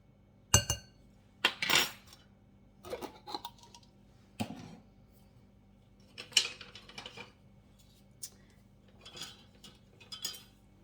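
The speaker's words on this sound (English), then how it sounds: "I'm going to give this just a good mix." Dry cake ingredients, including baking soda, being mixed in a bowl for a chocolate cake: scattered clinks and scrapes of a utensil against the bowl come in irregular bursts, close and moderately loud, with no talking.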